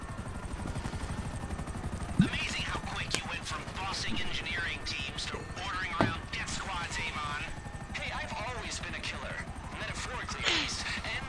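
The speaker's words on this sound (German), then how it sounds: "einen haben wir noch hinter uns, ein Heli" Police helicopter in the video game GTA V Online, a steady low rotor drone running throughout beneath someone talking, with a few sharp knocks along the way.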